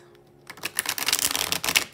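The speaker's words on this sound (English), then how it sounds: "They're telling me to shuffle up the deck" A deck of pick-a-card reading cards is shuffled up close, a quick, dense crackling riffle that starts after a brief pause and runs to the end.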